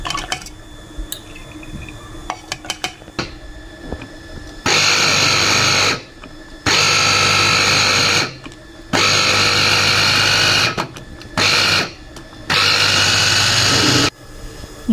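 Electric chopper grinding soaked urad and other dal for laddu peethi, whirring loudly in repeated short pulses of one to two seconds each, stopping and starting, after some quieter kitchen handling sounds.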